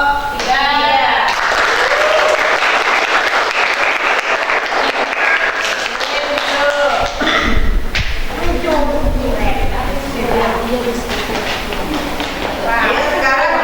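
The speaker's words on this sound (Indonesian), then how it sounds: "kita berikan aplaus untuk kelompok 3" Classmates in a classroom applaud a student group, a loud, sustained burst of clapping that fades briefly and then swells again, with voices talking over it.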